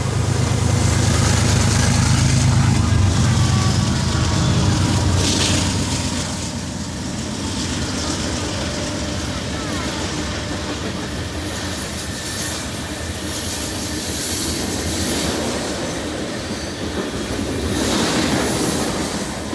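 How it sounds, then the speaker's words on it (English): Loaded BNSF coal train heading westbound past a park, its rumbling wagons and steady clickety-clack rolling by loud and nearby, swelling and easing as the cars pass. "along comes a loaded coal train westbound to the export terminals up near the Canadian border"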